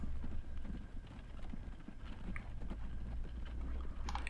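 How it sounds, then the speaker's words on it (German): A horse-drawn carriage pulls in within Transport Fever 2. Hooves clip-clop in a quick, steady rhythm at low volume, with a faint rumble underneath. "Die eine Kutsche fährt da ein."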